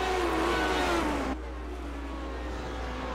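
IndyCar race cars scream through a downhill turn at Road America, a loud engine whine sliding in pitch as one car passes close, then cutting to a steadier, quieter engine drone.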